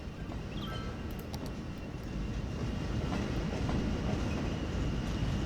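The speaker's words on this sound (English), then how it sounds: "There should be some more trains coming along the way soon. In fact, there is one coming right now." A train rolls past on rails in the Cities Skylines video game, a steady clickety-clack rumble with faint squeals, growing slightly louder toward the end.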